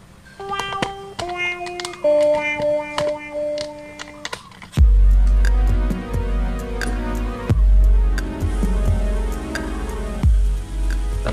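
Repaired electric fan motor starts after sitting still: a few clear tones come first, then a deep, steady hum kicks in and keeps running with occasional soft thumps, close by.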